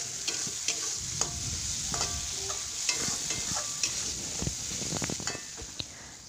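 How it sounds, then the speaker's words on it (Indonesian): Leftover sambal chili paste is reheated in a little oil in a pan, giving a steady close sizzle broken by repeated scraping and tapping strokes of a spatula stirring, with no voices. "aku mau goreng sambal. Ini tuh sambal kemarin gitu mam, dan ini aku angetin dengan sedikit minyak gitu."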